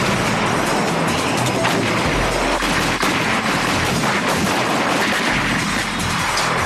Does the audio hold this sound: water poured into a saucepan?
no